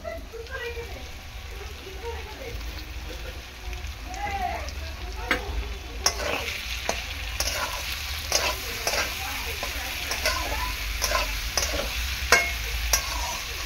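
Snake gourd frying in fish oil in a pan, stirred steadily with a spatula: a continuous soft sizzle with repeated scraping clicks and stirring strokes, close and moderately loud, with a little talking.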